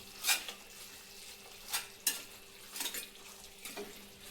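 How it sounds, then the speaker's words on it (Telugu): A spoon stirs a tomato paste mixture in a pan: several distinct scraping strokes spaced irregularly over a faint low sizzle, quiet and close with no talk. "ఇది మొత్తం కలుపుకోవాలి"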